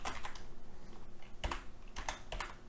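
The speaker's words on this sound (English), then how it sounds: "you just click it and you type in the thing that you want" Steady, fairly close typing on a computer keyboard, a continuous patter of key clicks with a few louder strikes, no talking.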